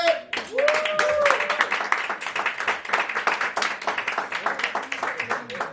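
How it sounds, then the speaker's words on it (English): Audience at a poetry show in the Rialto Theatre clapping for a poet, a steady wave of applause from a crowd that begins right after a host's brief announcement and continues throughout. "Please give it up for Tasha Lynn"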